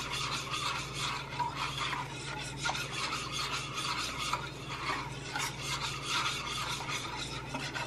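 A gelatin mixture for a gelatin-and-flan dessert is stirred, producing a continuous soft rubbing and scraping of the utensil against the container, fairly quiet and steady throughout.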